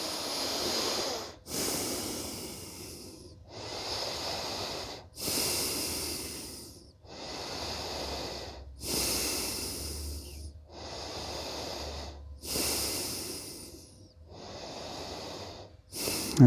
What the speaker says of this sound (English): Take some breathing, take some breath.